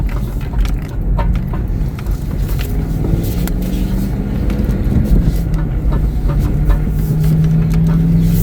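Car interior drone while driving to a parking spot in Wisconsin, with a steady low engine and road rumble, occasional clicks and a rising tone near the end.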